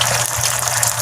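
Water rushing steadily into an emptied sardine can as it is rinsed, a brief continuous gushing splash heard close with no voices.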